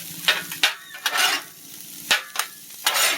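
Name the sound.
hibachi fried rice sizzling with sesame oil on grill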